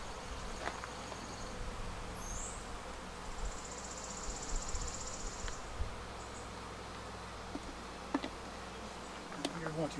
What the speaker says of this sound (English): Even the smallest of pollinators are out here looking for nectar.